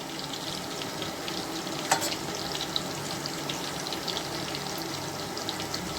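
Ingredients fry in hot oil with a soft, continuous sizzle and occasional faint crackles, one slightly sharper pop standing out partway through, all heard quietly without talking.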